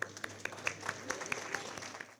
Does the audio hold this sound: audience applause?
yes